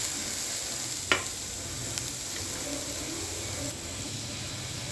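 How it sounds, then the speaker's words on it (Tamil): Onions fry in oil with cumin seeds, a continuous close sizzle and crackle with one sharp tap of a utensil early on and a fainter tap a moment later. "இந்த எண்ணெயில் இந்த வெங்காயம் போட்டிருக்கோம்."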